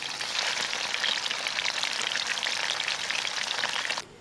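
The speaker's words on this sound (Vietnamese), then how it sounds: "Chiên sơ mỗi bên khoảng 1 phút là được ha các bạn" Fish frying in oil in a nonstick pan, a loud dense crackling sizzle like heavy rain, close and continuous for about four seconds before dropping off abruptly at the end, with no voices.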